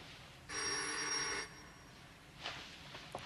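A telephone gives a single clear ring of about one second, followed by quiet room noise and a few soft knocks.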